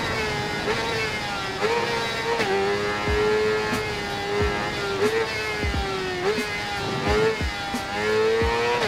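Motorcycle engine in the racing video game Ride 4, a continuous high whine with repeated rev rises and drops as the bike shifts gears, steady and prominent with no talking.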